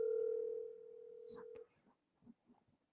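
Steady telephone call tone ringing loud and clear for about a second and a half, then cutting off abruptly, followed by a faint voice speaking in the background.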